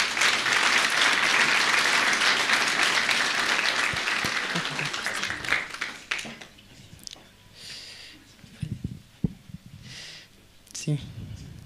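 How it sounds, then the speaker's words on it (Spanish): A congregation at a Sunday church service bursts into loud, sustained applause that fades after several seconds, leaving scattered claps and murmuring voices. "Vamos a recibir con fuertes aplausos"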